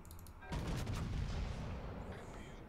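A battleship main gun salvo from the Sovetskaya Rossiya in World of Warships, a heavy booming blast that starts abruptly and rolls on as a sustained, rumbling roar before slowly easing off.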